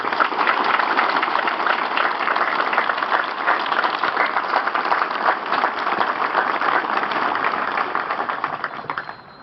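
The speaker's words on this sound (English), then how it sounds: "Please give these folks a round of applause." A crowd at an outdoor grand opening ceremony applauds a color guard and honor guard, a long, steady, dense wash of clapping that holds evenly for several seconds before tapering off.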